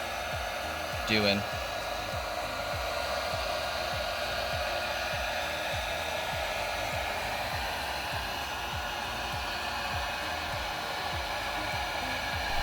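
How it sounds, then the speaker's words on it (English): A heat gun blows a continuous close whirring roar while heating the airbag trim on an Audi B8 steering wheel, with a brief sound of a voice early on. "making sure not to touch the heat gun on the steering wheel, just to heat this guy up for a little bit"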